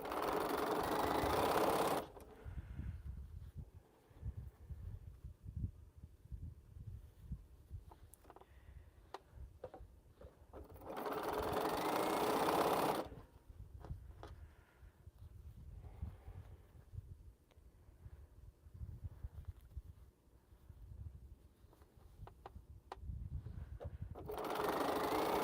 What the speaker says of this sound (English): we'll go ahead and sew some of these.